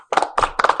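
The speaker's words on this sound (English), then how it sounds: "Let's clap it up for Devonte." A small group on a podcast set claps for a mentalist magician, three short bursts of close, crisp hand claps with brief gaps between them.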